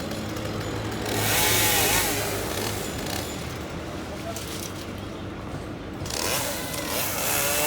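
An electric chainsaw on a crane cuts trees in a park, droning steadily outdoors with broadband buzzing and surges in pitch, over continuous background noise and possible voices.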